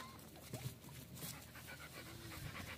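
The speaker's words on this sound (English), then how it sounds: "I see one little puppy right there." A young puppy pants softly in rapid breaths, with faint whimpers mixed in, very quiet against a background hum and no speech.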